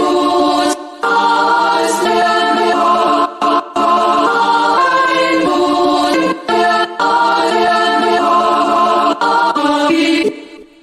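The main chopped sample of a beat: loud, dense harmonic music in short slices, broken by several abrupt gaps and restarts that give a stuttering, choppy rhythm, ending with a quick cutoff.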